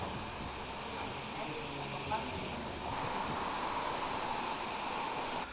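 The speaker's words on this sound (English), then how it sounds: "but in Spanish I believe it's called chicharras." Cicadas (chicharras) drone in a steady, shrill, continuous buzz through open windows on a Greek summer day, fairly close and unbroken until it cuts off at the end.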